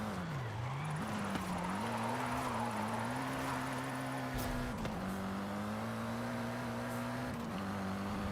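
Iketani's Nissan S13 from Initial D roars along in a racing video game, its engine a loud, continuous drone that dips and climbs in pitch through gear changes, with no talking over it.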